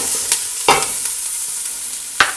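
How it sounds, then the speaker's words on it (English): Onions and garlic cooking down in a pan with octopus to follow, a soft steady sizzle under a few sharp scrapes and clacks of a spoon being stirred through the pan. "Then we are going to add our onions and garlic and just kind of render these down."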